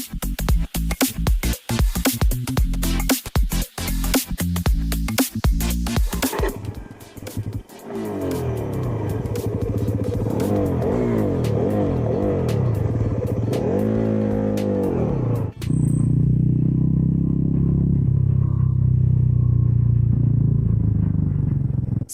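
Bajaj Dominar NS400Z motorcycle on a ride: sharp revving bursts and gear-shift pops at first, then a steady, loud engine drone that rises and falls with throttle, running continuously close up.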